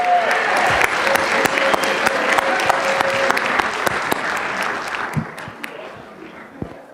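Sustained applause from a crowd at a school board meeting for carolers, steady clapping that thins out toward the end, with a few scattered claps lingering.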